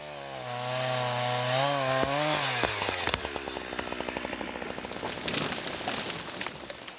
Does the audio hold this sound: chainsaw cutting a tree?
yes